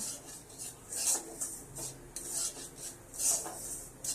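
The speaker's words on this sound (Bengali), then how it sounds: "এবার কড়াইতে" Dry grainy scraping and rasping as a spatula stirs semolina around a metal wok, in repeated strokes with brief louder scrapes, no voices.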